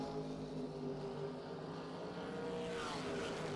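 An S10 pickup and a dragster racing side by side down a bracket racing drag strip, a steady distant engine roar that holds throughout and swells slightly toward the end, with no voices.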